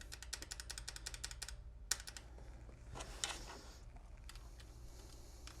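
Typing on a Razer Huntsman Elite keyboard with optical linear switches: a rapid run of close, crisp keystrokes, a short pause, then further scattered clicks and another quick burst, with no voices.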